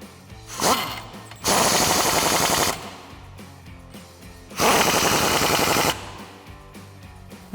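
An impact wrench drives a 22mm socket to tighten suspension bolts on a 2007-2021 Toyota Tundra during a lift kit install, giving two loud sustained rattling bursts of about a second each with a short blip before and quiet gaps between.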